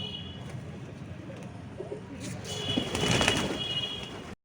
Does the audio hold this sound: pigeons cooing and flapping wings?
yes